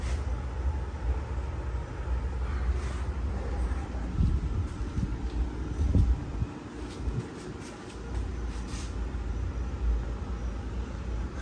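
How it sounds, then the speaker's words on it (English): Steady broadband whoosh of an electric fan running in a hot workshop, a continuous moderate hum with faint intermittent clicks and knocks over it, no speech. "Excuse the fan in the background"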